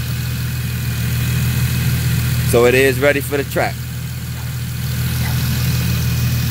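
A Q60 Red Sport 400 or G37XS sedan idles through a big rear exhaust, a steady low rumble that runs throughout while someone talks over it up close.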